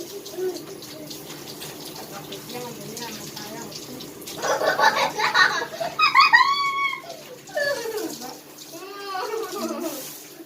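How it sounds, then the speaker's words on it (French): Cold water poured out during a homemade challenge game at home, a broad splashing rush rising midway and then tapering off, with voices and squeals around it. "maintenant on met de l'eau froide"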